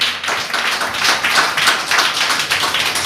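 Congregation at a Sunday Pentecostal worship service clapping loudly, a steady crowded patter of many hands that swells and continues without pause.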